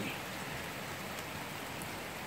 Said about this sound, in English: It is raining out right now.